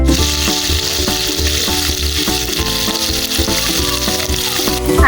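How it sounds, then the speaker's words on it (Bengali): Hilsa fish pieces fry in hot mustard oil with a loud, steady sizzle, close up. The crackling runs continuously, with bursts of popping and occasional stirring sounds. "আজকে কিন্তু আমি ইলিশ মাছ গুলোকে সরিষার তেল দিয়ে ভেজে নিব"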